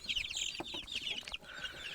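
Australorp chicks for sale at a poultry market cheep and peep in quick, high overlapping bursts, a flock of about forty heard close but fairly soft.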